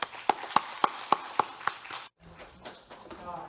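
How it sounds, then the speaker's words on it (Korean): Applause at a Korean international safe-communities conference, heard as about six sharp evenly spaced claps at first, then a short quieter stretch of shuffling with a faint voice. "박수로 맞이해 주시기 바랍니다"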